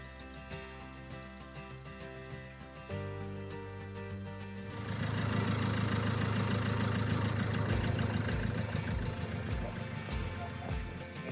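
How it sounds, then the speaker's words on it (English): The diesel engine of a 2017 Land Rover Discovery, repaired with a new timing kit, idles with a steady low hum that grows fuller and louder partway through, running evenly without rattles at moderate distance. "Just the solid, confident sound of a healthy diesel engine coming back to life."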